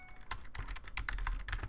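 Fingers type on a computer keyboard up close, producing quick, uneven bursts of clicking keystrokes that run steadily throughout, with no talking.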